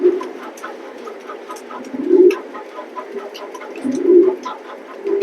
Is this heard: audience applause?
no